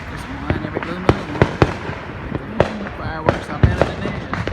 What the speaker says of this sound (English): Big money on these fireworks right here.